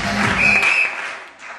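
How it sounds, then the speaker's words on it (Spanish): Brief burst of audience applause at a live improvised comedy show, a short loud crackle of clapping that fades within a second and a half. "aplauso nuevamente"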